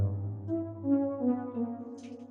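A modular synthesizer voice, run through a saturation stage, plays a smooth, gliding tone with shifting pitch and rich overtones that sweeps up and down over a couple of seconds, close and alone.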